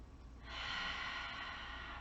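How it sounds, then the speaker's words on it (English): A deep breath drawn in during a Pilates exercise on a mat, a close airy rush that starts after a brief quiet moment and holds steadily to the end. "One more nice big deep breath in."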